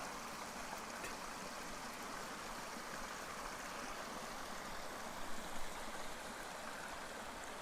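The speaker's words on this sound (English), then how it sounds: "A little bridge crossing the creek there." Steady rushing of a creek flowing under a small footbridge on the Manistee River Trail, a continuous broadband water sound, soft and unbroken for the whole stretch.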